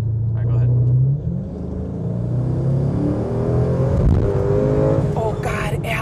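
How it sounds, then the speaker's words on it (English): A 650 HP twin turbo Coyote-engine Mustang accelerates hard, its deep engine roar climbing through rising gears, loud and close from inside the car, with people talking and exclaiming over it. "I want you to punch it now while I'm in the car so we can kind of teach you how to control a Mustang."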